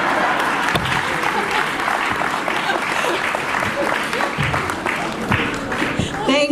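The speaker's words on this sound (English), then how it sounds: "I thought you guys were gonna clap" Loud, dense applause from a crowd at a campaign event for a Boston city council candidate, a thick continuous clatter of many hands with voices and cheers mixed in, swelling slightly near the end.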